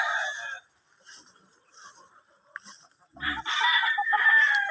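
Fighting cocks on a farm, clucking and crowing calls in short bursts at moderate distance, with someone talking at times.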